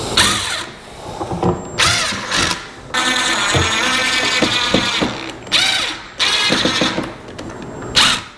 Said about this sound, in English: slowly drill